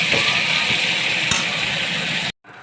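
Mushrooms fry in hot ghee with curry leaves, a bright steady sizzle broken by occasional clinks of a stirring spoon against the pan before the sound cuts off abruptly near the end.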